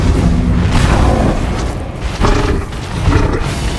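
Bombarda explosion spell blasting in the video game Hogwarts Legacy, a loud booming roar with rumbling bursts that swell and fade across the clip, alone without talk.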